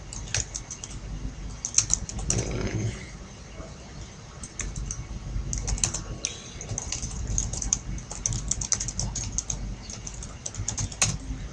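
Rapid keystrokes on a computer keyboard while Python code is written, a steady close stream of light clicks with no voices.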